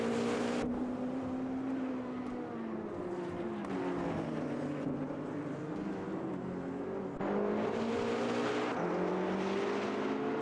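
GTP race car engines in the racing video game Automobilista 2 whine continuously at high revs, pitch rising and falling with gear shifts, a steady loud roar with no talking.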